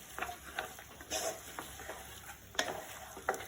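Chicken tossed with spices in a hot pan for Kerala-style erachi chor, with intermittent scraping spoon strokes over a low, steady sizzle and no voices.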